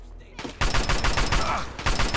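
Sustained rapid assault rifle fire in the video game Fallout 3 begins abruptly after a brief quiet moment and continues as a loud, dense burst of repeated shots to the end.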